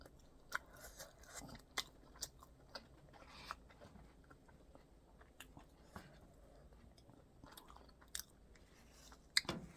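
Someone eats very spicy food up close, with soft wet chewing and occasional crisp bites and clicks at an irregular pace, quiet overall with no talking.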